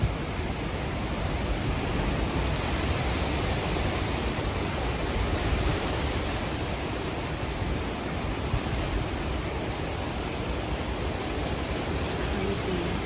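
Hurricane Ian's winds roar as a dense, unbroken rush of storm noise in Southwest Florida, loud and constant across the whole stretch with no letup.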